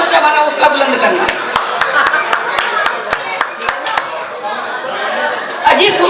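Audience clapping at a live Hindi comedy show with a husband-and-wife act, heard as a run of loud, sharp, irregular claps over crowd chatter, fading partway through before a final burst of claps near the end.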